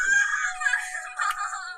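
A girl screams for her mother in a haunted attic, a sharp, high-pitched cry sustained for under two seconds and heard close and loud with no other sounds.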